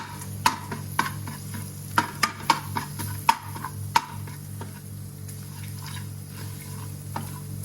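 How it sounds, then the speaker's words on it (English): Turmeric and chilli are stirred into a mixture in a pan: sharp, irregular spoon ticks and clacks rise over a steady low hum and faint sizzle, with no voices. "Give this a good mix."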